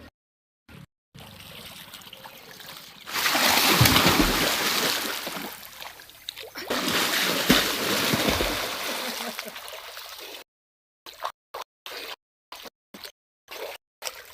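Water splashes and trickles as someone bathes in cold water outdoors, loud for several seconds then easing, with a broken, choppy stretch at the end.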